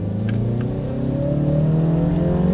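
A MINI Clubman S with 198 horsepower revs while driving, its engine note rising steadily in pitch as it accelerates through a gear, loud and close from inside the cabin, with no talking.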